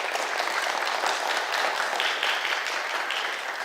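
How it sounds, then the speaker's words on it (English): An audience applauds a performer at a literary event: a dense, sustained wash of clapping filling the room, strong and steady before easing slightly at the end. "So a round of applause again for our performance."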